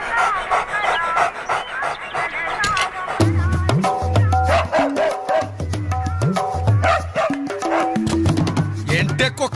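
A dog in a Telugu movie scene pants and gives short whimpering barks and yips, close and fairly loud, with people talking over it at times.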